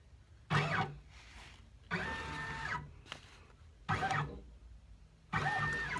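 A Brother Persona PRS embroidery machine traces a hat design in a 4 x 4 floating hoop, giving four bursts of motorized whirring, each about a second long, separated by quiet pauses.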